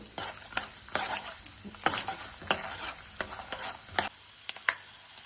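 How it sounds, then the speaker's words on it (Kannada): Chana dal frying in oil in a pan for puliogare, with irregular stirring clicks and scrapes over a light, steady sizzle, close and moderately quiet. "ಕಡಲೆಬೇಳೆ ಹಾಕ್ತಾ ಇದ್ದೀನಿ. ಸ್ವಲ್ಪ ಬ್ರೌನ್ ಕಲರ್ ಬರಲಿ."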